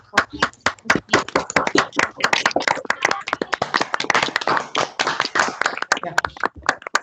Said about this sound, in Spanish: le demos un fuerte aplauso al ingeniero Germán Pardo